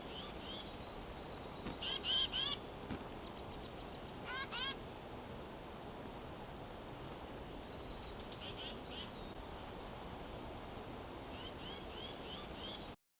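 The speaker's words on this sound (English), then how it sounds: "I find with brown creepers that it really helps to know their calls because they do vocalize a lot." Thin, high-pitched brown creeper calls come in short bursts at scattered intervals over a steady background hiss, fairly faint and distant.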